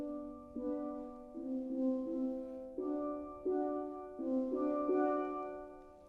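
Double seconds steel drums in a steel drum band being strummed, repeated rolled chords struck in a steady rhythm, each ringing and fading before the next, played alone at moderate volume.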